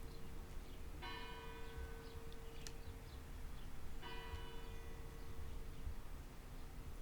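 Two distant bell strikes ring out about three seconds apart, each leaving a bright, shimmering tone over a steady background hum.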